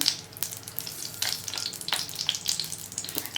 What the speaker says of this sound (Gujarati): અહીંયા આપણી રાઈ એકદમ સરસ રીતે ફૂટી રહી છે